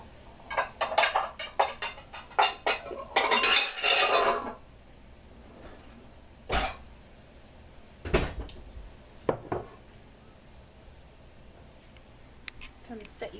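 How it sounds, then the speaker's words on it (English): Bowls and dishes handled in a home kitchen, a flurry of clattering and clinking ceramic early on, then a few isolated sharp knocks and taps spaced apart, close and fairly loud. "I'm going to get a bowl out for the ranch."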